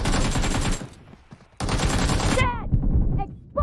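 Gunfire in a PUBG team deathmatch plays in loud, rapid automatic bursts, stopping briefly and then starting again, with short gaps and whistling ricochet-like tails near the end.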